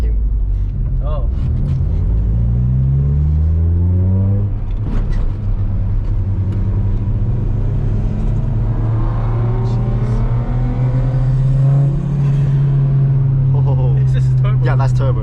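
Turbocharged car engine revving at a car meet, loud and close, with rising and falling pitch sweeps and a sustained high rev in the middle, while people talk nearby.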